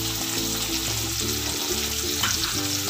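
Sliced onion frying in a pan for mutton korma, a loud close sizzle with stirring clatter running continuously, set against a low steady hum, no one speaking.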